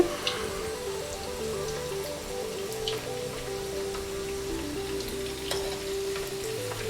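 Potatoes for Kashmiri dum aloo frying undisturbed in hot oil, a constant crackling sizzle with scattered pops and faint clinks, no voices.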